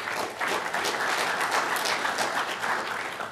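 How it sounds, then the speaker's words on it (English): Audience applause fills a conference hall at a community land trust gathering: steady, dense clapping from a crowd, loud and continuous without a break. "If we give them all a round of applause."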